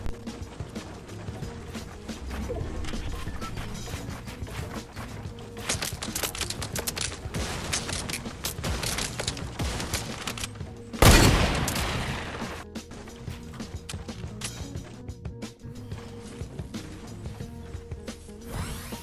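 Rapid bursts of Fortnite Battle Royale gunfire crackle through a busy stretch of game audio, with mechanical clicking and a loud, sharp blast around the midpoint before the shooting continues.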